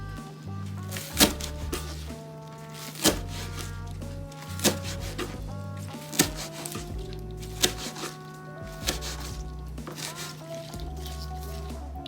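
A knife chops nine green onions, not too finely, on a board for quick kimchi, a regular series of sharp, close thuds roughly every second and a half over a low steady hum.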